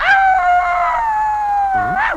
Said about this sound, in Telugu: అదే ఇందాకడి నుంచి అట్టాగే మురుగుతున్నా కుక్క.